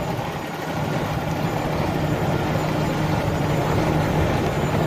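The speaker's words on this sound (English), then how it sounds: "This has a Cummins diesel engine with an Allison automatic." A 2013 Peterbilt 365 truck with a Cummins diesel engine and Allison automatic idles steadily nearby, a continuous low rumble with no talk over it.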